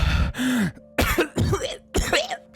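Coughing and throat clearing in an anime fan story, a rough series of four or five close, loud bursts with short pauses between them, mixed with strained vocal sounds.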